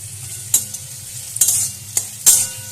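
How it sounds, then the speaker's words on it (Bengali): Quiet low sizzling of onions and green chillies in a pan over a low flame, punctuated by several brief scraping strokes of a utensil stirring, with no voices. "আবারও লো ফ্লেমে ভালো করে একটু ভেজে নেব।"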